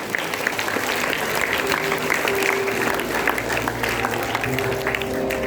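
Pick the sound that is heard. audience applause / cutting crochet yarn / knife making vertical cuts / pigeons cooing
audience applause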